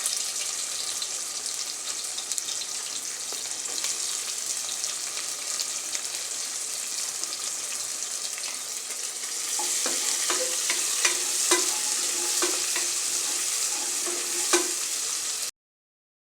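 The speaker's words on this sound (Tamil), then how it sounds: "வெங்காயம் நல்லா இந்தளவுக்கு நல்லா வதங்கட்டுங்க" Sliced onions with fenugreek and fennel seeds sautéing in hot oil for a goat intestine curry, a steady sizzle with stirring scrapes that grow louder and more clattery in the second half.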